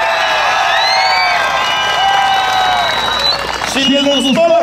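A crowd at a bull-riding rodeo in a Duluth, Georgia mall cheers and applauds. Whoops and shouts rise over a steady wash of clapping.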